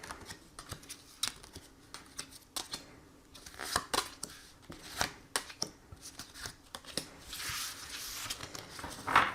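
Tarot cards are shuffled and drawn in a series of soft, close riffles, flicks and paper slides that come in irregular bursts at low volume.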